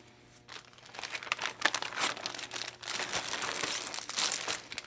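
Crisp crinkling and tearing of plastic wrapping as a custom sticker pack is opened, a steady run of close, fairly loud rustles and crackles with no talking.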